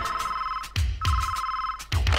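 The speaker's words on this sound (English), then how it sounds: "Secret gadget phone." A secret gadget telephone rings in a 1980s electro hip hop mix, giving repeated trilling bursts of electronic ring broken by short pauses, loud and close, with no voices.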